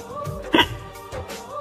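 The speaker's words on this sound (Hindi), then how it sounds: "हिचकी क्यों आ रही है?" A single sharp hiccup bursts out loud and close in a short comedy sketch, standing alone against a low room background.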